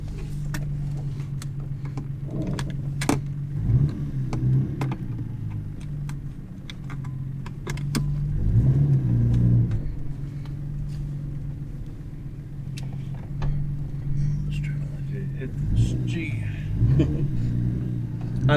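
Low engine rumble of a car on the road, steady with occasional surges, while people talk inside and small ticks and clicks come through.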